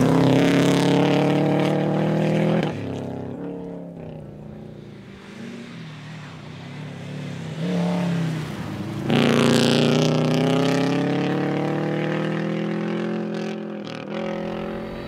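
A rally car powers along a snowy winter rally stage at Big White, its engine roaring up through the gears, easing off midway, then surging loudly again before fading slightly.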